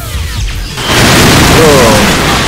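A loud blast of gunfire and an explosion in the video game Silent Storm, with a short burst that swells into a sustained, close roar of noise.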